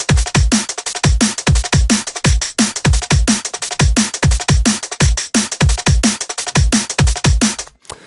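Neurofunk drum and bass drums, a busy top layer of hits and shuffling percussion, pound out a dense fast loop with the other parts of the track. Loud and close, with no voices.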